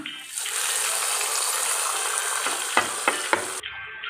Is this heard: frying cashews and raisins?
yes